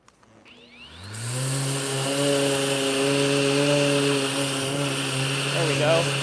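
An electric power sander starts up and runs steadily on a wooden desk with 150-grit paper, a rising whine that settles into a loud, even buzzing drone.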